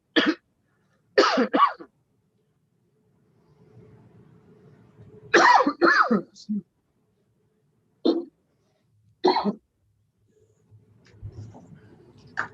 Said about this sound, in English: While he's coughing